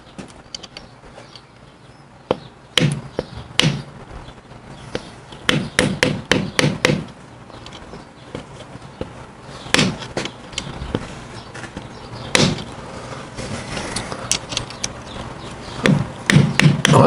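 Small chisel tapping metal parts on the primary drive of a 1965 Harley-Davidson Panhead, heard as irregular sharp clinks in short clusters, some close and loud and others lighter, with quiet gaps in between and no talking.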